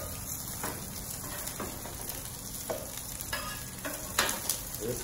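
Wagyu steaks sizzle on a hot grill, a steady close crackling hiss with a few louder pops and spatters, no talking.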